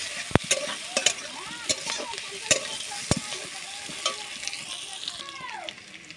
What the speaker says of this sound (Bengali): কত সুন্দরভাবে নেড়ে নিচ্ছি।